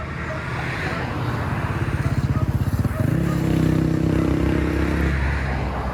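A Honda CB110 motorcycle engine idles nearby with a rapid, even putter that briefly speeds into a throbbing pulse, then settles into a steady, smooth hum; loud and close, with no one talking.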